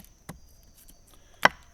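Two sharp, close chopping strikes of a 5-inch Panawal khukuri blade trimming wood, a lighter knock followed about a second later by a louder, crisp bite, with quiet in between.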